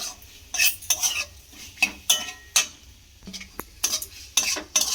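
Spoon stirring tomato sauce into chicken patty filling in a pan, with about ten sharp scraping and clinking strokes against the metal in an irregular rhythm, close and fairly loud, no talk.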